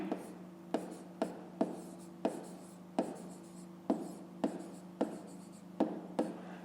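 Pen strokes on a notebook page while working a fifth-grade maths exercise, a close, quiet series of short scratchy taps and strokes in an irregular rhythm, about a dozen, with no speech.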